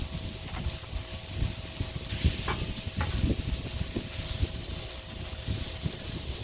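Chopped bacon sizzles on a hot griddle, a steady broadband hiss with faint crackles and a few soft scrapes throughout.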